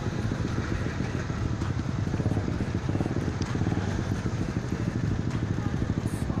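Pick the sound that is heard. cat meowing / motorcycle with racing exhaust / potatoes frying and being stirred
motorcycle with racing exhaust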